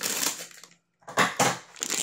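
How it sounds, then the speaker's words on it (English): Scissors cutting open a silver foil pack holding a collectible vinyl figure: a short crinkling, crunching burst, a pause of near silence, then several sharper crinkly snips and rustles close up. "Gotta use scissors."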